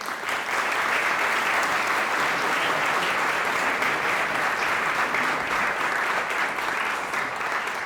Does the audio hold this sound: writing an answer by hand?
no